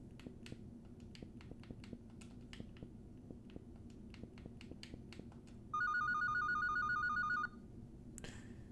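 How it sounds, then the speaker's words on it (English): Telephone ringing in a video game: a trilled electronic ring lasting about two seconds cuts in over a steady rhythmic clicking bed, with no talk. "If you call 3003 on the phone, you should be able to connect to your supervisor."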